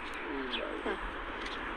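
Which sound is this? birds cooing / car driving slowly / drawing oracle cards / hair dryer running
birds cooing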